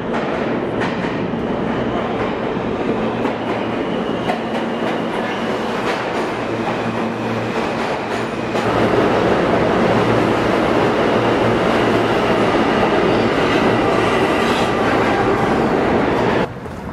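A New York City subway train pulling into a busy station, a loud steady rumble of rail cars and clattering wheels that swells louder partway through, with no talk over it.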